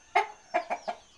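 A fighting rooster gives four short clucks up close, one then a quick cluster of three, each a clear, abrupt note with quiet gaps between.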